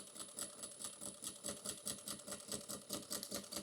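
Sewing machine back stitching a fabric bag near a 1/4 inch seam, a quiet, steady rapid chatter of needle strokes at an even rhythm with no talk.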